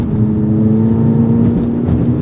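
A 2023 Volkswagen Polo GTI with a DSG gearbox, shifted by paddles, accelerates hard out of a corner. Its engine gives a loud, steady, close drone for the whole stretch.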